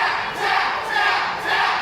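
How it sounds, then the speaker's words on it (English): A professional wrestling arena crowd chanting in rising and falling waves of massed voices, loud and rhythmic with two swells. "Now the crowd is talking about Slim Jims, Romero"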